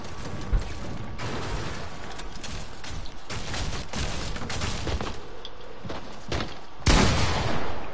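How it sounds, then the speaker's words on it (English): Scattered video-game gunshots crack over a dense, busy background, with a sharper burst near the end and no talking. "just let me shoot this down"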